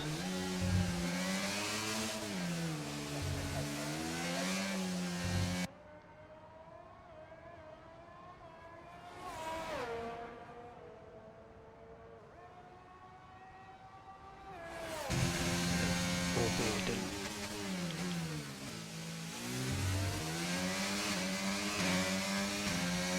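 Formula 1 cars at Baku in F1 2022 whine loudly with rising and falling engine pitch, fade into a quieter stretch where a distant car passes, then return at full volume as gear changes cut through.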